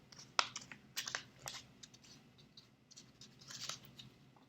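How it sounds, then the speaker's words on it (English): Paper being folded in half for a paper dragon craft: soft crinkles, rustles and a few sharp creasing snaps, close and quiet, scattered unevenly across the moment. "we're going to fold the dragon in half"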